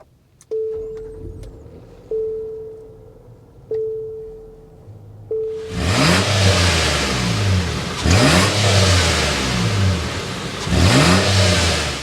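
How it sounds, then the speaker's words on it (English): A 2024 Nissan Pathfinder Rock Creek: several short chime tones, then the engine cranks and fires into a loud, steady exhaust note with repeated rev swells, heard close up. "start this thing up so you can hear that exhaust note"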